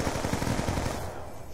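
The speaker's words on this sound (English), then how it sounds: "He's shooting guns." Rapid automatic gunfire in an online first-person shooter match, dense bursts of shots rattling continuously and loud, tapering slightly toward the end.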